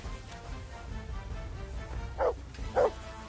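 Mutt, a dog in the medieval video game Kingdom Come: Deliverance 2, gives two short, sharp barks near the end, faint under a low background hum.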